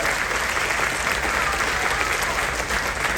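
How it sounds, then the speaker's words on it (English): An audience at a cruise vloggers' question-and-answer session applauds in a thick, continuous roar of clapping that holds evenly throughout with no voices standing out. "So give them a round of applause as well"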